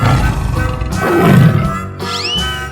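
A tiger roars in a 3D animal slide game, a rough, growling roar that swells in the middle, with a short whistling effect near the end and game music throbbing underneath.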